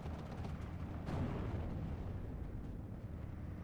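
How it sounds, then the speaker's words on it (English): Bombs dropped by a BE-2 bomber explode in the WWII strategy game Steel Division 2, a low rumbling blast with a swelling boom partway through, heard alone at moderate volume. "Gets the bombs off too."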